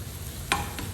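Liver sautéing in a pan, a steady close sizzle with a quick scrape of the spatula partway through.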